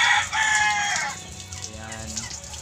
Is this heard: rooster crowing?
yes